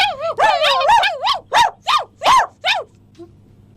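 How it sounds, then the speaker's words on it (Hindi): A dog barks in a rapid series of about eight yelping, howl-like barks, loud and close, then falls silent near the end. "ये क्या ये कुत्ता वैसे कैसे बोल रहे हैं?"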